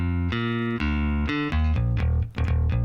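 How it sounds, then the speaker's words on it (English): Thick, inorganic-sounding MIDI bass line in a simple mix from the game Amplifier, playing a series of loud sustained, clearly separated notes in a steady stepping rhythm, with no talking. "Like that's a very thick, nice bass sound."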